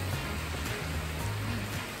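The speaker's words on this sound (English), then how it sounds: "Even though it is not only rain, it is a typhoon." Heavy rain falls steadily during a typhoon, a dense unbroken hiss of drops hitting surfaces nearby, with a low engine-like drone beneath it.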